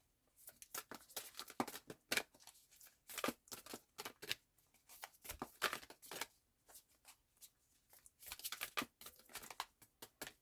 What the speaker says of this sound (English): often it takes me a little bit longer for shuffling with this deck because it's bigger